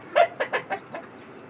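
Ducks call out in a short burst of four or five quick, nasal quacks, the first loudest and the rest fading, heard fairly close outdoors on a farm with no voices.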